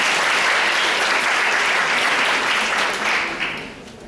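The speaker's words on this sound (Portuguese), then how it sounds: "Uma salva de palmas para o Thiago." Loud, sustained applause from an audience for Thiago at a suicide prevention event, a dense wash of clapping that holds steady and then fades toward the end.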